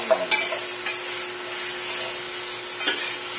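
Black beans sauté in a pan with a steady, close sizzle. A few light scrapes and taps of a utensil stirring break through the frying.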